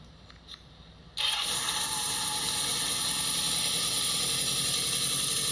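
A restored Kawasaki Z650 motorcycle engine cranks with a few brief mechanical clicks, then catches and settles into a loud, steady, close idle that runs to the end.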